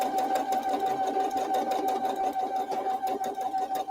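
A sewing machine stitches steadily through a quilt block, its motor whirring in a continuous, even hum with fine rapid needle clatter, close and alone without talk.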